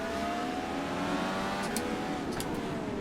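A race car engine in the racing game rFactor 2 at NOLA Motorsports Park drones steadily at high revs, loud and continuous, with a couple of brief sharp upshift blips near the end.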